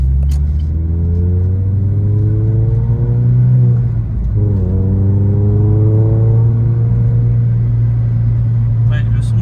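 A Renault Clio 3 RS Cup limited edition with a 2.0-litre 203 hp engine drones steadily while driving. The engine dips briefly, as if for a gear change, then resumes a loud, even hum from inside the car.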